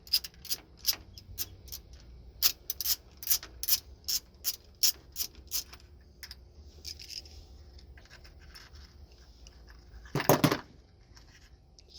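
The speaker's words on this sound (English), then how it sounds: "In this case, the bolts are coming off easily." A ratchet wrench loosens bolts on a Freightliner Cascadia coolant reservoir, giving crisp, close metallic clicking in steady rapid runs that pause, then a short dense burst of clicks near the end.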